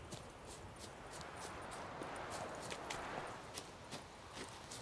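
A horse walks in The Witcher 3: Wild Hunt, with soft, spaced hoof steps clopping at an unhurried pace over several seconds against a low, rustling game ambience.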